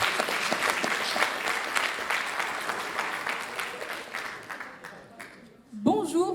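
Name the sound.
thunderous audience applause for the last candidate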